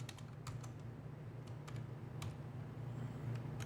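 Quick bursts of keystrokes on a computer keyboard as a Linux df -h command is entered, light irregular clicks over a low steady hum, close and fairly quiet, no talk.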